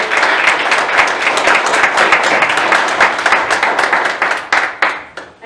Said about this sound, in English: Could you please give them a round of applause for all they do for us?